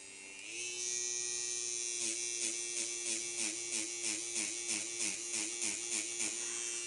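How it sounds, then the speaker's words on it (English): A permanent makeup machine runs steadily while shading powder brows, a close, continuous high-pitched electric buzz with a faint rhythmic pulsing as its needle speed shifts. "so we all know that machine creates the small dot insertions in the skin"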